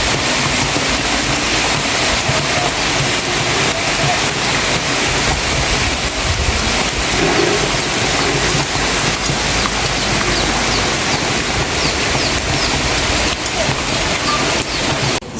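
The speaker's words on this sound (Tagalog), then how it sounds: "Malakas pa rin ang ulan sa labas." Loud, steady downpour roaring without pause, a dense wash of rain hitting surfaces throughout.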